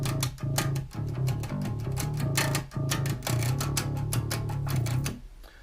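Heavily distorted bass guitar chugs through a rapid metal riff joined to a pentatonic passage, with a steady stream of fast picked notes and brief gaps before ringing out at the end.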